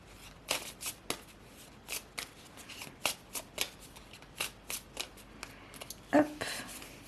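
Tarot cards are shuffled by hand, a run of quick crisp riffles and flicks in an irregular rhythm, close and quiet with no talking.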